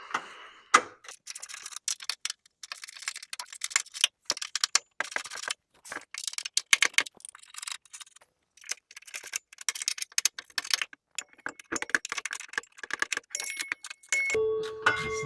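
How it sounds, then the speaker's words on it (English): A hand ratchet with a 14mm socket works the rear bumper bolts on an NA Miata, giving dense bursts of quick clicking with short pauses between, close and fairly quiet, ending in a brief steadier hum. "Grab your ratchet. and your 14mm socket."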